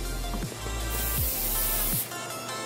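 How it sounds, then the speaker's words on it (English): Cooking spray hisses in sustained bursts over a tray of prepared vegetables, with a few short pauses between sprays, close and fairly loud. "I like to give them another spray on top of this cooking spray."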